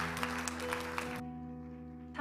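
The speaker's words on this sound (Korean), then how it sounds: "우리 박수로 두 자매 환영하겠습니다" A church congregation at a Sunday worship service claps briefly, a short burst of scattered applause over sustained keyboard chords that carry on alone after the clapping stops.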